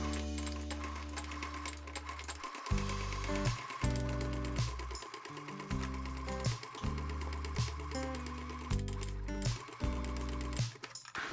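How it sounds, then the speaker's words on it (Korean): A sewing machine stitches a tote bag in several steady runs, its rapid mechanical hum starting and stopping in close bursts over background music. "여기 옆도 다 고정해서 재봉 쭉 하시면 됩니다"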